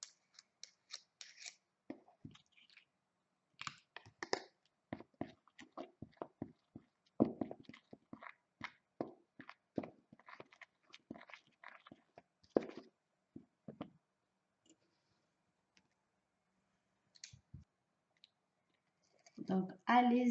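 A homemade face mask preparation is stirred in a bowl with a utensil, giving sparse, irregular soft clicks and scrapes close up in an otherwise quiet room.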